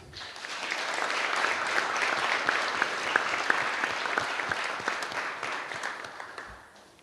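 Steady audience applause at a school board of education meeting honoring students, a dense, even wash of many hands clapping for about seven seconds, swelling in and tapering off at the end.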